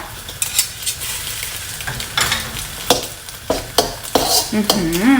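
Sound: stir-frying rice noodles with added oil

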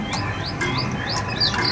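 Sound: birds chirping in Disneyland Adventureland Treehouse attraction

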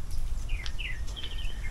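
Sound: pond birds calling, sounding like cats

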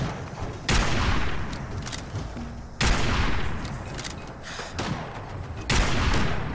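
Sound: gunfire and a headshot in the video game Fallout 4

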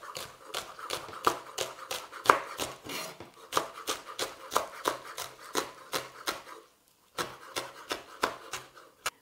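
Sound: knife cutting spring onions into rings

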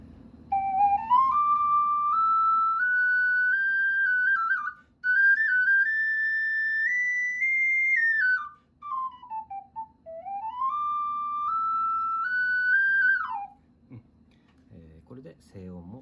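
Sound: G ocarina being played

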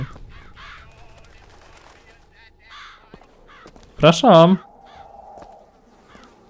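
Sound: ravens cawing in the video game BioShock Infinite

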